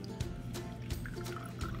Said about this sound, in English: Pour the liquid out.